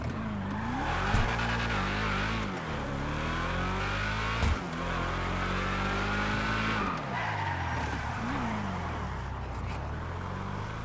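Declasse Sabre muscle car from GTA 5 driving around a block, its loud engine droning and revving steadily with shifting pitch, brief tire squeals and skids mixed in, no talk.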